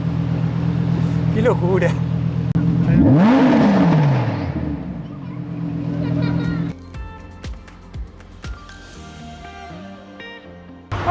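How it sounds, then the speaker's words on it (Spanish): A Lamborghini revs and roars past on a street in the Cancún area, a loud rising engine sweep peaking then fading, followed by quieter background clatter and a short spoken exclamation. "Escuchando cómo ruge ese Lamborghini"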